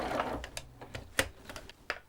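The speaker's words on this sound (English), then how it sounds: "line it up 15 mil from the end and stitch away" Sewing machine stitching a seam on a child's dress at a 1.5 cm seam allowance, a faint run of irregular ticking and clacking strikes over a low hum.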